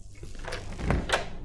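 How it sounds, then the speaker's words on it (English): A door being locked in the horror game Cry of Fear: a few short clunks and clicks of the latch and bolt in quick succession, close and moderately loud over a low room hum. "Gonna lock that door."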